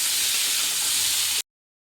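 Potatoes frying in a pan give a dense, even hiss and sizzle, close and steady, that stops abruptly partway through, with no voices.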